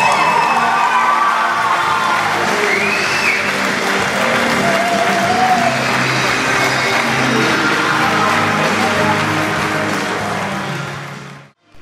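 A crowd at a sports ball applauds and cheers loudly after a dance performance, with dense, sustained clapping, whoops and shouts lasting about eleven seconds before cutting off abruptly.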